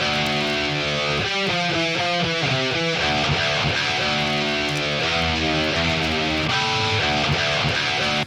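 Heavily processed electric guitars play a dense, distorted riff with chugging rhythmic chords, loud and continuous without any other instruments.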